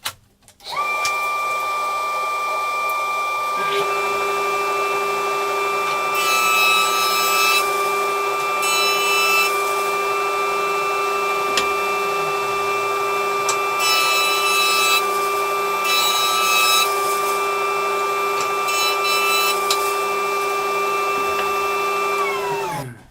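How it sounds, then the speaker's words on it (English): A planer hums steadily for over twenty seconds, a loud sustained motor drone with strong tonal whine, as mahogany timber boards are edged and trued, with brief bursts of cutting noise as wood passes the blades; no talking. "go back to the planer and to plane and edge these bits of timber to true them up"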